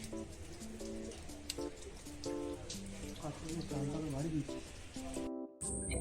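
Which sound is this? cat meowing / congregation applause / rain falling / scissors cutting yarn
rain falling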